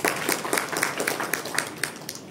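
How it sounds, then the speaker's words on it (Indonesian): Applause from a church congregation during a Sunday worship service, a dense, continuous clapping that stays loud and steady throughout. "Tepuk tangan buat Pak Simon"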